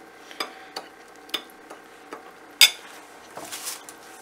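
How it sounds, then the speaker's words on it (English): A spoon scrapes and taps against a bowl while stirring a breadcrumb mixture, giving a string of close, sharp clinks in an irregular rhythm with one louder knock. "we're basically gonna give that a little stir"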